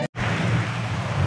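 Steady, loud rain pours down at an outdoor resort around midnight, a dense continuous wash of falling drops close by after a brief silent break at the start.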